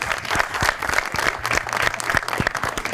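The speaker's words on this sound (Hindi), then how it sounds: "रमीज भाई के लिए एक बार तालियां होनी चाहिए।" A short burst of applause from a TV talk show studio audience, many hands clapping steadily at a moderate distance.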